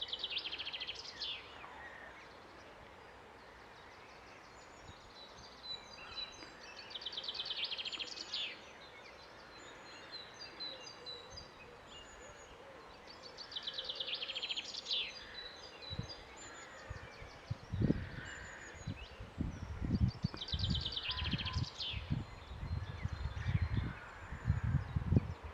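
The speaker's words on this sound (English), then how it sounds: "I'm standing and just listen to the birds" Birds sing in open Norfolk countryside, high chirps and warbling calls scattered across the clip over a steady outdoor hush, with low rustling and bumping noises close by toward the end.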